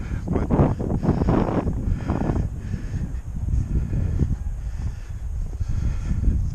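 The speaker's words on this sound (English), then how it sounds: "a little windy out" Steady low rumble of wind buffeting the microphone throughout, loud and continuous with gusty swells.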